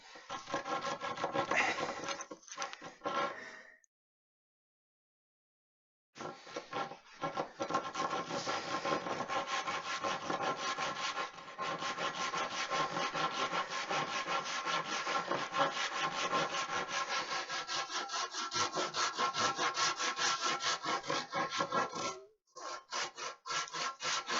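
A hand saw cuts through wood along a marked line in steady, close back-and-forth rasping strokes, with one pause of a couple of seconds early on and no talking.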